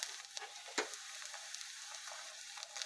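Ginger, garlic and onion paste sizzles quietly in a frying pan as a soft, steady hiss with a few faint pops.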